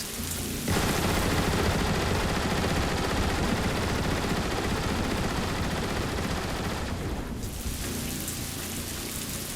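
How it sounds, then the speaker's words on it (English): A heavy ion displacer turret fires in Transformers: War for Cybertron, a loud sustained roaring discharge that starts abruptly, holds for about six seconds, then gives way to a softer lingering rumble. "He is armed only with his heavy ion displacer turret"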